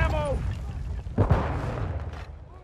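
A grenade blast in Call of Duty Modern Warfare II: a deep, rumbling explosion mid-clip over sustained low game rumble, with a voice speaking early on.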